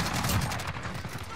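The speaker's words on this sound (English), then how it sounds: "I'm taking fire!" Incoming gunfire in Modern Warfare, a short dense burst of rapid shots and impacts at close range during a chaotic firefight.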